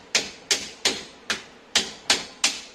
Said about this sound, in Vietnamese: Các bạn lấy búa nhé.